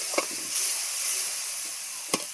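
A ground ginger, cumin and coriander paste sizzles in a pan with fried onion and garlic, making a steady, close hiss with a couple of faint clicks from stirring.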